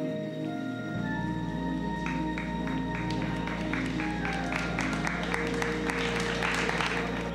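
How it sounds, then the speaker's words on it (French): Studio audience on a French TV show applauding steadily throughout, dense clapping with crowd noise under a continuous musical hum. "Les gens applaudissent, mais pourquoi?"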